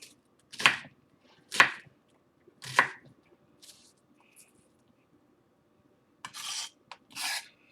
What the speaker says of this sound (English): So now that you have your onions cut